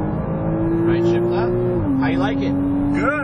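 Porsche Cayman S at full throttle on a Las Vegas race track, a steady engine drone rising then stepping down at a gear change, heard from inside the car under an instructor's voice talking over it.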